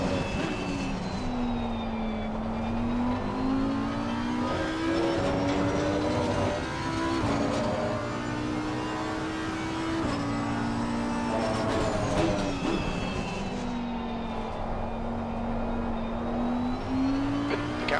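Race car engines in Assetto Corsa Competizione at Valencia, including a red and black McLaren, whine steadily and loudly with rising and falling pitch through gear changes, several cars running close together without a break.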